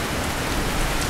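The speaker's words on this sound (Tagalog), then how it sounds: "kasi dati pag malakas ang ulan" Heavy rain pours steadily, a dense continuous hiss of drops beating on surfaces, loud and close with no voices over it.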